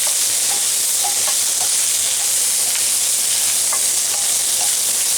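Sausages sizzle and crackle steadily in a hot Stargazer cast iron skillet, with occasional pops and light scraping, no voices.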